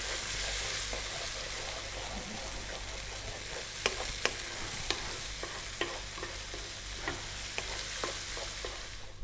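Paprika eggs frying in a pan, a steady soft sizzle with scattered sharp ticks and taps of a utensil against the pan, close and alone without any talk.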